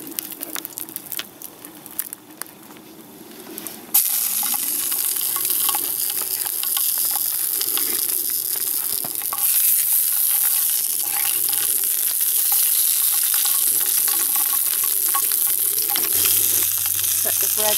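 Sausages frying in a pan over a camp fire for a bushcraft breakfast, a steady loud sizzle that starts softer and jumps up after a few seconds, with occasional stirring and a faint low hum.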